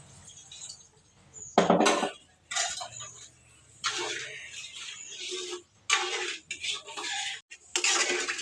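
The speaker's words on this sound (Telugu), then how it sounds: "కొన్ని తగినన్ని నీళ్ళు అయితే పోసుకుందాం" Bursts of water gushing and splashing into a pot of palak paneer curry, coming in several short pours separated by brief pauses.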